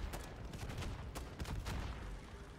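Rapid bursts of gunfire in MW3 Zombies crackle in quick succession, faint and dense, with repeated sharp shots running throughout.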